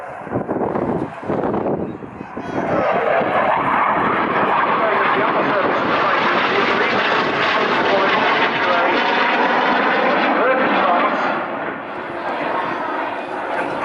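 A Eurofighter Typhoon jet flying an airshow display at the Duxford Summer Airshow 2025: a loud, sustained roar rising as it passes and staying strong for several seconds, with a commentator talking throughout.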